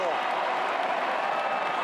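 Roaring stadium crowd at a 2017 AFL match between Geelong Cats and Western Bulldogs, a dense, sustained wall of cheering after a goal, with a commentator's voice over it.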